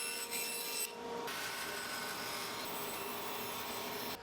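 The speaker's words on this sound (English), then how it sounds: "I'm using the bandsaw here to cut off the tongue and the groove off of this old flooring" A bandsaw slices the tongue and groove off old wood flooring, a steady close, loud blade-and-motor drone that runs through the whole stretch with a short dip near the start.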